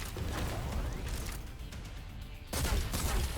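Vigilant's weapon in Exoprimal fires in repeated shots, with one louder burst near the end. The gunfire sounds moderately distant and faint.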